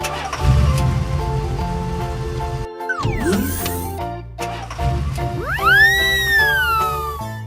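A pickup truck engine rumbles steadily, cuts out briefly, then returns alongside swooping tonal effects and light music, loud and close throughout.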